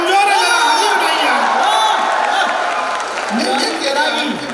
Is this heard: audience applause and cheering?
yes